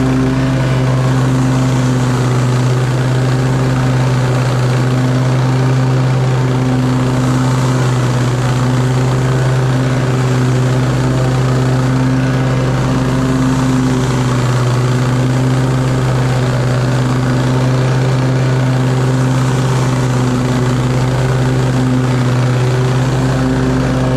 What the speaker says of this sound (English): let me switch camera angles and show you guys some mowing footage.